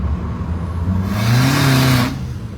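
A turbocharged Toyota Camry engine rev rising to a loud, close whooshing surge for about a second before dropping back to a rough idle.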